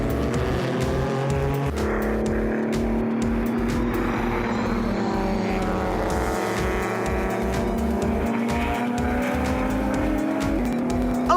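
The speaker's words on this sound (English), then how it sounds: "a spin for Franco at turn 3, brought about by contact with the Lola out wide" A race car spins at turn 3 after contact with a Lola, its engine roaring loudly throughout as tires squeal and skid, with other cars droning past on the circuit.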